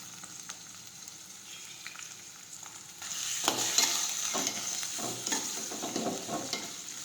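Chopped tomatoes and grated ginger hit a hot pan for urad dal, a quiet hiss that swells into steady sizzling with scraping stir strokes after a few seconds.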